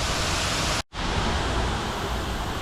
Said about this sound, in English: If you go this way, there's a cool waterfall, right, that connects.